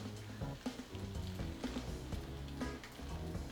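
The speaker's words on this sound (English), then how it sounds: "make another sizzle sound. So let's listen." Liver sizzles and crackles steadily in a hot pan, a close, continuous frying hiss with small pops and light stirring clatter.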